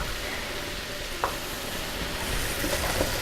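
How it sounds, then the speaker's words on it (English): Thin slices of cheesesteak meat hit a hot skillet and sizzle in a steady, close hiss, with a few light scrapes of stirring partway through; no one speaks. "So now we're just adding the meat into our hot skillet."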